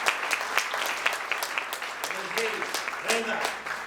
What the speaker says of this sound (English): I want a round of applause for the neighborhood association leaders